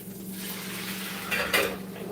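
Food frying in a covered pan with a splash of water added so it steams, a low sizzle and hiss with a brief clink of pan or utensil, heard up close without speech.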